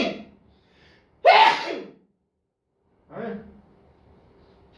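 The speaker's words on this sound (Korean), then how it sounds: "재채기." A teacher in a math lesson gives one sharp, loud sneeze, close to the microphone, with a softer breathy exhale a couple of seconds later in an otherwise quiet room.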